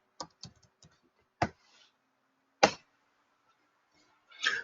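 A computer keyboard is typed on in short, sparse bursts of crisp key clicks separated by silent pauses, close and quiet, with no voices.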